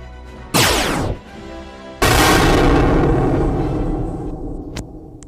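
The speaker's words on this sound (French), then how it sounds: "Phaser lourd!" A heavy phaser weapon fires in a space setting: a loud sweeping zap followed by a second, bigger booming blast whose rumble trails away over several seconds.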